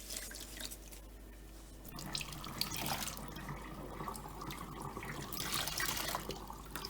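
A steady stream of tap water runs and splashes while a Dyson DC33 vacuum filter is rinsed and squeezed under it, close and continuous at moderate loudness with uneven gurgles.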